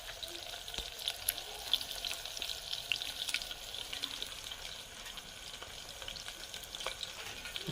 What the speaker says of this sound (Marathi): कांदा टाकलेला आहे फायनली. आवाज बघा.